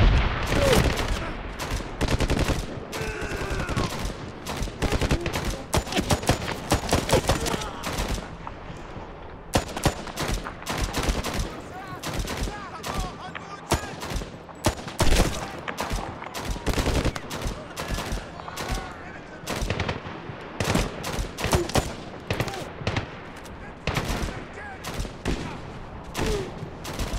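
Sustained gunfire in the Medal of Honor Tier 1 Operators video game during Operation Anaconda, dense rapid bursts of automatic fire and single shots crackling loudly over about half a minute, with brief gaps; occasional voices shout under the shooting.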